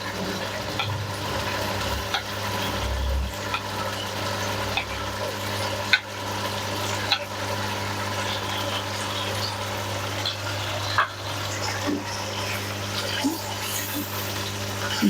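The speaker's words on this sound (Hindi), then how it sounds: "दही को अच्छी तरह से मिक्स कर लेंगे।" Yogurt is stirred into a white chicken karahi in a pan, giving a steady soft bubbling simmer with occasional light scrapes and clinks throughout.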